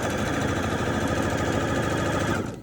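A sewing machine runs a thin, close-edge stitch along a folded fabric hem, a fast, steady mechanical chatter heard up close that cuts off abruptly at the end.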